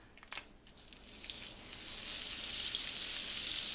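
Butter melts into hot bacon grease in a pan, starting with a few crackles and swelling into a steady, loud, hissing sizzle that holds to the end, with no talking.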